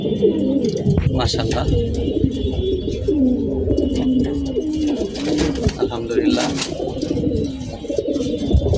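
Male pigeons cooing close by, a continuous layered chorus of low throaty coos that runs throughout while someone speaks over it.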